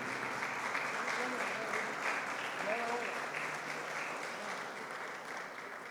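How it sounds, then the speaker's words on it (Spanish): An audience at a Day of the Book celebration gives sustained, fairly faint applause that slowly tapers off, with voices speaking through the clapping. "por eso un aplauso para todos ustedes en este día"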